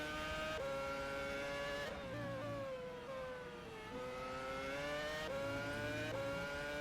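Race cars in the rFactor 2 sim racing game at Abu Dhabi scream steadily at high revs, their engine notes rising and dipping through gear changes and passes.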